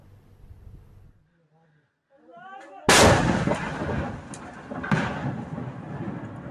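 A missile launched by soldiers at an army post in the Jura sector hits with a sudden loud blast, followed by a rumbling roar and a second thump, after a quiet stretch with a few chant-like voices.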